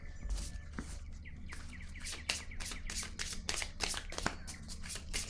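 Tarot cards being shuffled by hand, a quick run of crisp riffling flutters and taps in steady bursts, close and fairly quiet, with no voices.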